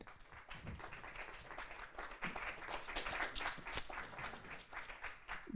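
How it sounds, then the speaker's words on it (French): Audience applauding at a university science-talk final, a faint, distant patter of clapping that holds steady throughout with a few sharper claps standing out. "applaudissements s'il vous plaît"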